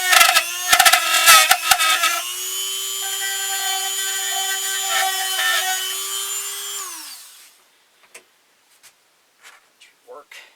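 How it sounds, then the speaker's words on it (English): A Dremel rotary tool carving into a wooden figure, whining loudly with bursts of grinding for about seven seconds before spinning down, followed by a few soft taps and handling clicks. "we'll take our Dremel here and take this out some"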